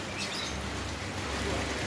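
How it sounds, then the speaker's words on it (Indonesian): Steady rain falls beside a backyard fish pond, a dense, even hiss that goes on without a break and sounds close and moderately loud. "Hari ini hujan."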